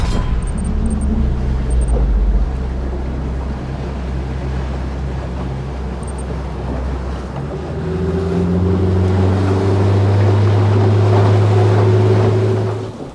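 A motorboat loaded for a sea fishing trip sets off across the water, its engine rumbling loudly and then climbing in pitch and power as it accelerates, with wind and water noise around it.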